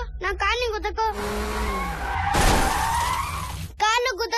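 Cars crashing in a video car racing game: tyres squeal into a sharp crunch and shatter, with voices talking just before and after.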